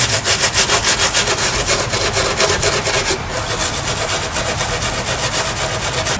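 Sanding on a repaired plastic car bumper makes a continuous loud abrasive rasp with a rhythmic back-and-forth pulse, heard up close with no talk.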